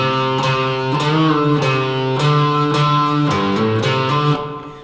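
Electric guitar picking out the opening measure of a song's solo, a short melodic phrase of clean sustained notes with hammer-ons, played alone and close up.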